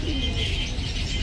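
Soft pigeon cooing amid a rumbling background hum, brief and somewhat muffled.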